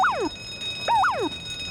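A rising and falling electronic alarm wails twice in quick succession at the Quickie Mart in The Simpsons: Hit & Run, loud and steady against a faint background, with no talking over it.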